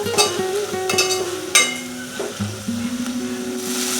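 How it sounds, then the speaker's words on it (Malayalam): Tomatoes sautéing in a pan for tomato rice, a close, steady sizzle broken by sharp knocks and scrapes of a spoon against the pan, several clear clatters punctuating the frying. "നന്നായിട്ടൊന്ന് വഴറ്റണം. ആ തക്കാളിയെല്ലാം നന്നായി വെന്ത് ഉടയണം."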